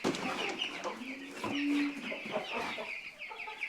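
Several American Bresse hens, four weeks old, cluck and murmur close by, with a short drawn-out call in the middle and overlapping bursts of clucking throughout.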